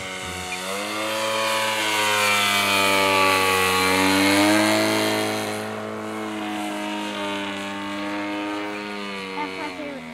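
A CMP Extra 300S model airplane engine drones as the plane flies past, a strong buzzing whine that swells, shifts pitch, then settles, loud and near.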